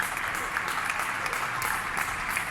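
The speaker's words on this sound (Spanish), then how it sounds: "esos aplausos por la sanidad española" Steady applause from a crowd honouring Spanish healthcare workers in Valencia, a continuous dense clatter of clapping that holds at one level throughout with no speech.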